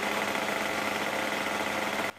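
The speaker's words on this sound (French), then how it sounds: "ici le moteur est sur un régime de ralenti accéléré d'environ 5000 tours, on laisse refroidir" A scooter engine runs at a fast idle of about 5000 rpm while cooling down, giving a steady, buzzing mid-pitched drone that cuts off abruptly at the end.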